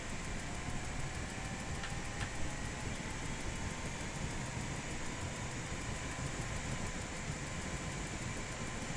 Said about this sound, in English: That will get the engine running properly.